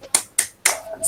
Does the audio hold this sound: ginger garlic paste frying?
no